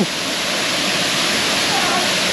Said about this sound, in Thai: เป็นน้ำตกใหญ่ครับผม